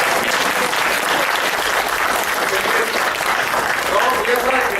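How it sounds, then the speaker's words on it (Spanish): Neighbors at a community assembly in Santa Cruz Meyahualco applaud for a fellow member, giving a steady, dense round of clapping from a close crowd with no pauses. "Le solicito a todos los vecinos un aplauso para el compañero Luis"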